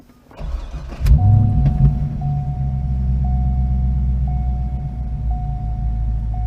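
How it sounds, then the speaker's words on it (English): A Ferrari engine cranks and catches about a second in, then settles into a steady, low rumbling idle with a faint repeating chime above it. "Let's go ahead and start the car up."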